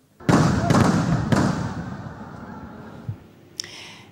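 Fireworks explode in the sky over an officer graduation ceremony in Pau, three heavy booming blasts in quick succession, each followed by a long crackling, rumbling decay, with a fainter pop trailing near the end.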